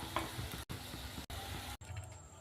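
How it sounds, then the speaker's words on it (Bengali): Pakoras frying in hot mustard oil give a close, steady, crackling sizzle that is cut off by a few brief silent gaps. "একে একে করে এরকম ভেজে নেব"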